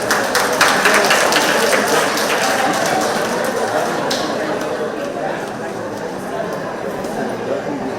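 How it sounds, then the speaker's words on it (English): Applause from attendees at a community group's monthly meeting, a burst of clapping that starts strong and gradually thins out. "Could we give a round of applause"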